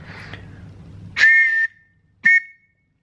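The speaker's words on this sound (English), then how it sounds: "This is a modern Metropolitan whistle." A modern Metropolitan whistle blown up close in two shrill blasts, a longer one followed by a short chirp. Each blast is a piercing, steady tone, with a soft low rumble before the first.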